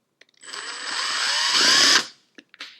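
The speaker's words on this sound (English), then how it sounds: "Now we can remove the retaining screws, there's 3 of them, that hold the starter motor to the crankcase" A power driver whirs for about a second and a half, spinning out a retaining screw that holds the starter motor to an X30 kart engine crankcase, followed by a few small clicks.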